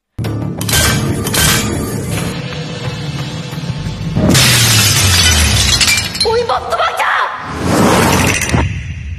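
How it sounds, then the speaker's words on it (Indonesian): A ceramic sealing urn rattles and then shatters in a dramatic scene, with loud crashing bursts, whooshing swells and heavy booming thuds piling up over several seconds amid score-like drones. "Guci penyegel bergetar dan kemudian pecah"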